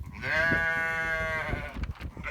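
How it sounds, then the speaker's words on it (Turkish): Lambs on a village farm bleat up close, one long wavering bleat followed by shorter bleats and animal shuffling. "Ay kuzulara bakın."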